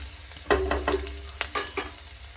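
Crushed garlic drops into hot oil in a pan for a Kottayam-style fish curry and is stirred, giving soft sizzling with several scraping strokes, close and fairly quiet, no talking.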